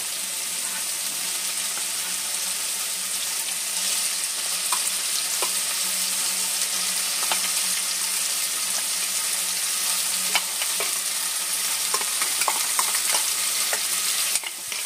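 Soybean chunks go into hot oil and spices in a home kitchen and fry with a constant bright sizzle, broken now and then by a few clicks and scrapes of stirring, with no voices.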